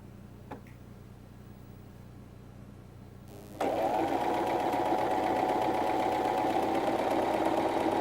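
A sewing machine stitches the seams of a six-panel kameez, starting abruptly partway through and then running as a steady, close, continuous mechanical whir.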